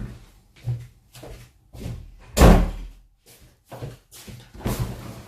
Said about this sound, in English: Let me shut the door, it'd be easier.